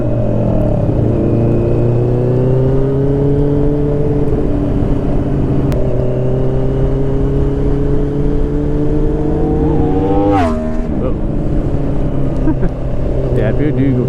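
A motor vehicle rushes past on a fast desert road during a group motorcycle ride near Tortilla Flat, its engine swelling loud and close around the tenth second, over a steady drone of idling or cruising motorcycle engines and wind.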